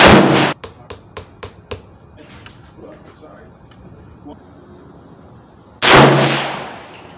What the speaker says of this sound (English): I'm gonna be shooting with Barnes Vortex ammunition.